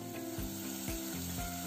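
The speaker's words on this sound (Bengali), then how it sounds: "পেঁয়াজ ভাজা হয়ে গিয়েছে" Onions frying in oil in a pan with a continuous moderate sizzle, with a few scraping stirs of a spatula against the pan, no talk.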